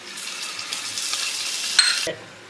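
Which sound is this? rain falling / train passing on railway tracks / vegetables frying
vegetables frying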